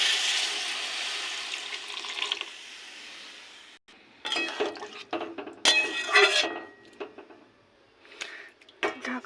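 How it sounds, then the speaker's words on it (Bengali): Water is poured into a pan of frying soya chunk curry with potatoes, a steady hiss giving way to sizzling bursts, clatter and stirring scrapes, fairly close with no talk. "কষানো হয়ে গেছে এবার দিয়ে দেবো জল"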